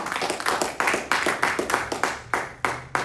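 A church congregation claps along at a Christian sermon service, with loud, close, evenly spaced claps in a steady rhythm and no talking.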